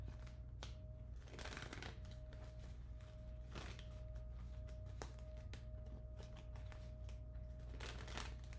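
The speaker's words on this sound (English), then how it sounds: "Make sure I shuffle really good." Tarot cards being shuffled repeatedly, a steady papery riffling and flicking with sharp snaps, close and continuous with no talking.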